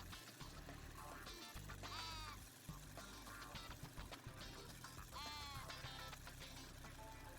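Sheep bleat in a strategy video game, several wavering cries spread across the clip over a steady game backdrop, all quite faint.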